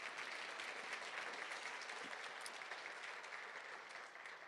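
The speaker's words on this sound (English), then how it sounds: "So let's give them a round of applause." An audience at a keynote address applauds steadily, a dense even clapping that holds for several seconds before easing slightly.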